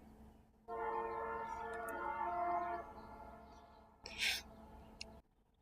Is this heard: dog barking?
no